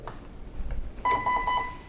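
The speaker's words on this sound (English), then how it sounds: "the motor will give me 3 beeps" Arcturus Trinity Armament AEG airsoft gun motor beeping three times after its battery is connected, a series of short, clear electronic tones in quick succession following a brief handling noise.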